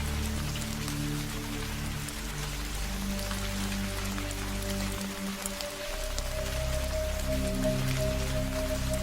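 Light drizzle falls under an overcast sky, a soft continuous patter of raindrops over a steady low hum, faint and even throughout.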